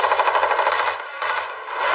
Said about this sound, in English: Prepare to open fire!